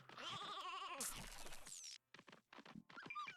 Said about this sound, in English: If you take the crying sheep,